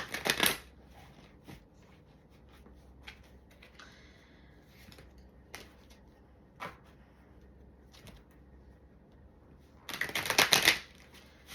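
Tarot cards shuffled close by in two loud riffling bursts, one at the start and one near the end, with soft handling and taps in between.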